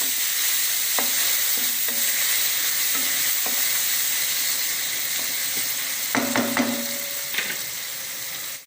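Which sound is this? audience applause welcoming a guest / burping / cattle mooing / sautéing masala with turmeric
sautéing masala with turmeric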